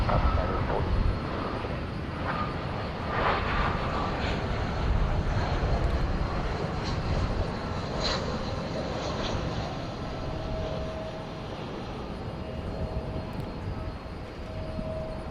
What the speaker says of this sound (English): Airbus A320 arriving from El Paso